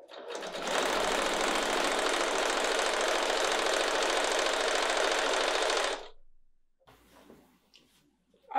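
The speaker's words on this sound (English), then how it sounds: "I'm gonna attach this white strip. And then I'm gonna go ahead and sew." A sewing machine stitches a white fabric strip onto scraps for a clutch in one long steady run of about five seconds, loud and close, then stops and falls nearly silent.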